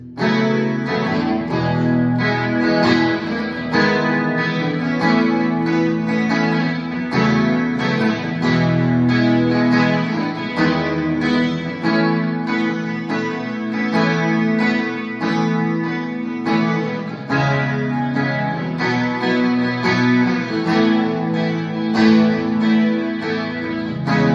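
A Neblina Songwriter electric guitar played on the bridge pickup with reverb, chords and notes ringing out continuously with a bright, trebly tone, no voices.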